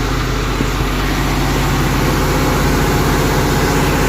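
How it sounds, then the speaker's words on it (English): A car engine idles fast just after a cold start, a steady, loud, continuous rumble with a low throbbing pulse and no voices over it. "we're at high idle, because I just fired it up"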